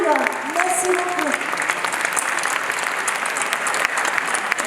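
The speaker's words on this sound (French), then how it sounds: "nous nous invitons à s'élever et applaudir chaleureusement ce travail" A forum audience at the Dakar GSEF 2023 gathering applauds warmly in a sustained, dense wash of clapping that holds steady throughout, with a brief voice at the very start.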